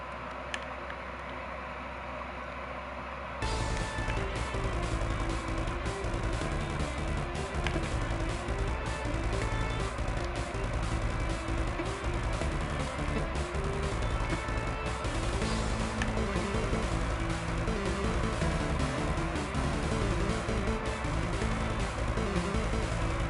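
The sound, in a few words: 8-bit remix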